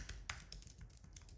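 Quiet keyboard typing on a computer while setting up a Python turtle project, a run of soft, irregular keystroke taps at close range with no talk.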